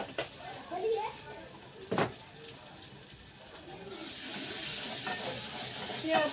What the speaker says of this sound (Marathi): आपला मसाला मस्त भाजत आला बरं का